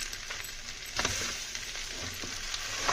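Green chillies fry in a pan with a constant hiss and sizzle while a spoon stirs them now and then, scraping and clinking against the metal. Sago khichdi is being cooked.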